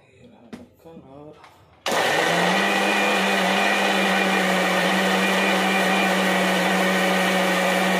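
A kitchen blender grinds onions into a paste, starting abruptly after brief talk and then running loud and steady with a constant motor whine to the end.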